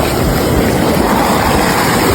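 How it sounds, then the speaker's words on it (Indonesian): Steady roar of surf and wind on a south Banyuwangi beach facing the Indian Ocean, a continuous broadband wash of big crashing waves with no voices. "Ombaknya besar karena berada di Samudra Indonesia atau Pantai Selatan."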